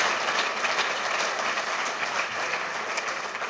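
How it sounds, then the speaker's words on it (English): An audience of roughly 725 people claps steadily at an evening lecture on global climate change, a dense, continuous wash of applause that holds at an even level throughout without any talk over it. "so give yourselves a hand."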